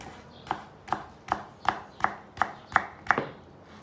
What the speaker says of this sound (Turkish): Şöyle bir tanesini doğrayarak göstereyim de sizi yanıltmayın.